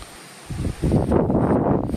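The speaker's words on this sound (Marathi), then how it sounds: "वारा सुटलाय, छान पाऊस येण्याची शक्यता." Wind gusts outdoors by a temple in Bali, Indonesia, under an overcast, rain-threatening sky. It rises to a steady, rough roar against the microphone after a brief quiet start.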